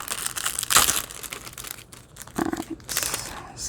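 A mailer holding Pokemon cards is torn and cut open close up, with loud crinkling and ripping of the packaging in bursts and a sharp tear midway.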